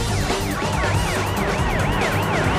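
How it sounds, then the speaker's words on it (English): An ambulance siren wails loud and close in a repeating rising-and-falling cycle, with a low engine rumble underneath and no talking. "Now turn the damn siren on."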